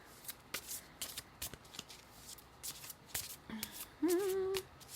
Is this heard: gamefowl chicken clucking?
no